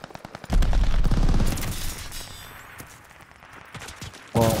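Rapid bursts of automatic gunfire in the Call of Duty Vanguard shooter, loud and close, a sustained volley that trails off into quieter shots, then a sharp burst near the end.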